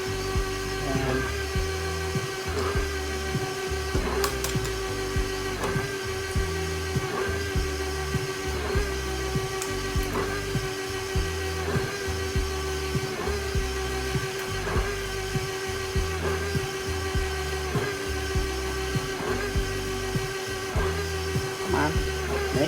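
An electric mixer whirs steadily and evenly while beating chocolate orange cheesecake batter, a continuous mechanical drone with a regular pulsing rhythm and no talking.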